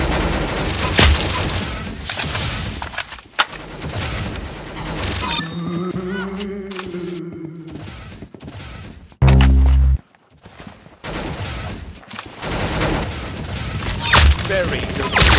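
Bursts of gunfire from the video game Arsenal, rapid shots and fusillades with mechanical clicks and thunks, loud and close, mixed with game sounds and some voice in the background.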